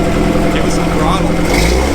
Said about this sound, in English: Give us some throttle.